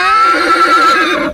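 A young Marwari colt neighs once in a loud, close whinny that holds a bright, wavering pitch for just over a second, with no talking over it.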